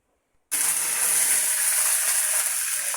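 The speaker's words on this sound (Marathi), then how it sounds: "कढईत तेल टाकलेलं आहे." Oil sizzles hard in a kadhai for tempering toor dal ghugrya, starting abruptly after a brief silence and holding as a steady, bright, close hiss throughout.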